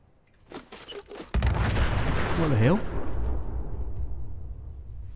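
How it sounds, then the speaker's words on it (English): A loud, nearby explosion in Fallout 4 bursts out suddenly after quieter rumbling, then a long rolling roar with a falling whistling tone that slowly fades. "That was pretty nearby, that explosion."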